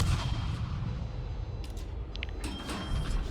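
Naval gunfire and incoming shells in a warship video game, heard as a constant heavy low rumble of engine and sea noise with a few brief, sharp mechanical bursts on top.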